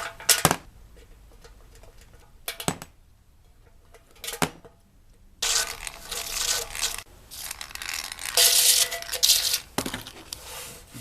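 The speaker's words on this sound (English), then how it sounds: "I just need to cut off the puller studs." Dent puller studs get cut off a dented motorcycle gas tank: sharp metallic snips and scrapes come first, then longer, louder grinding bursts near the end.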